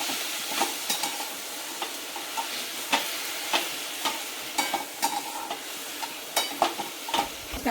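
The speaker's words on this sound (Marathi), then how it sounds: "एका जुडीची पाने आहे, आपण ही परतून घेऊ. चांगली परतून घेतले म्हणजे ना कडवटपणा जातो" Fenugreek (methi) leaves sautéing in a pan for methi paratha, with a steady soft sizzle and frequent light scrapes and taps of a spatula stirring them.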